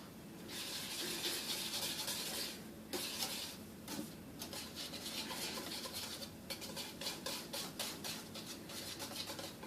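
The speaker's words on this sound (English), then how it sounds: "I'm going to switch out to my whisk." A whisk beats eggs into choux pastry dough in a bowl, giving quick, rhythmic metallic scraping and clinking strokes that continue throughout at moderate volume, with no talking.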